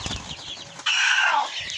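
Chickens nearby in a coop with soft clucking, then a burst of wing flapping and fluttering that fills the rest of the moment.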